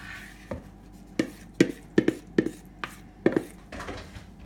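Beetroot being laid out in a jar for a beet salad, with a series of irregular soft knocks and clicks of pieces and utensils, close by and fairly quiet, with no talk.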